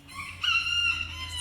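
Chickens in a backyard vegetable garden, a rooster crowing loudly and close with a drawn-out call while hens cluck softly around it.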